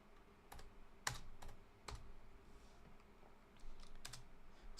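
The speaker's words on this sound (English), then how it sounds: "Stop typing like a nerd." Typing on a computer keyboard: a few sharp, scattered key clicks at an irregular pace over a low background hum, fairly quiet and close, with no talking.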